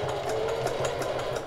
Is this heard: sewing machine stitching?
yes